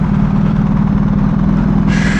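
Steady low engine drone from a BMW GS motorcycle ridden on a ring road, a constant rumble with wind noise and no talking.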